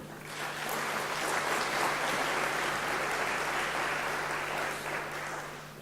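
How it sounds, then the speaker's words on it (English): Audience applause fills a graduation ceremony hall at a university, a dense, steady wash of clapping from a large crowd that holds for several seconds with a constant low hum beneath. "let's give them a round of applause again once more, please"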